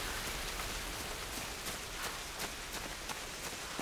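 Steady, dense rain pours in a Tomb Raider storm on an island, a constant hiss of drops drumming on surfaces with faint scattered taps, continuous and fairly quiet, no voices.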